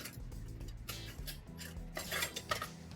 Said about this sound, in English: And I smash them all